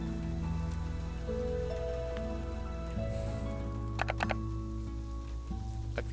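Rain falling in the video game Slimeferno, a steady hiss of patter on surfaces running under continuous game music, with a few sharp clicks partway through.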